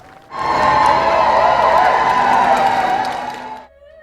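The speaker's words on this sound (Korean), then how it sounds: "영국 근위 기병대 제복을 입은 해리 왕자가 형 윌리엄 왕세손과 함께 등장하자 군중들이 환호합니다." A large outdoor crowd cheers and roars at a British royal wedding as Prince Harry, in Household Cavalry uniform, arrives with Prince William; a dense, sustained wash of voices swells in abruptly and fades after about three seconds.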